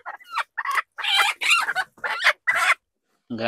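Chickens clucking and a rooster crowing on a farm, a run of short bursts close by and moderately loud, with brief gaps between calls.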